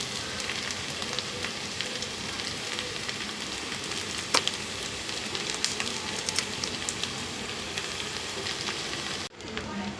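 Chow noodles fry in a hot pan with ginger-garlic paste, salt and spices, giving a steady, dense sizzle with faint crackles, close and continuous, then a brief dip near the end.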